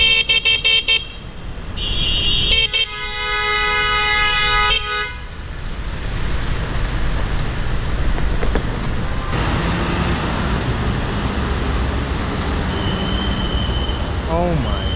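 A loud mini bicycle horn on a New York City street blares in several long, piercing honks, then traffic rumble and passing vehicles fill the street noise.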